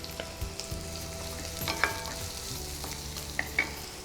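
Chopped onions frying in a pan for fish chilli momos, a soft steady sizzle with a few stirring scrapes and light clinks, close and quiet, with no voices.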